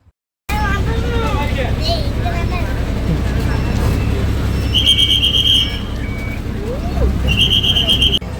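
A TNSTC government bus on the Theni to Munnar route pulls away and drives off, a steady loud engine drone with road rumble, brief high beeps and passengers chattering in the background.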